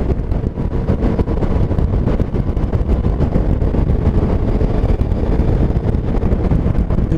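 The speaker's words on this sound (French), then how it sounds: "Toujours un régal ce moteur." A Yamaha Niken three-wheeled motorcycle engine while riding, a continuous low rumble heavily buffeted by wind noise on the microphone, loud and unbroken with no voices.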